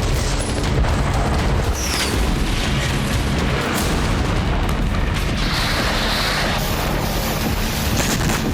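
Explosions roar across Sevastopol port during a Ukrainian attack: heavy, loud booms and continuous rumbling blasts fill the whole stretch, with no speech over them.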